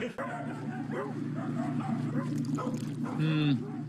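Dog barking and yipping in bursts, several short calls at close range, with talk mixed in underneath.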